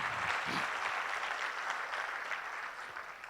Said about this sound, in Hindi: ओके, एक बार जोरदार तालियां हो जाए आप सभी लोगों के लिए।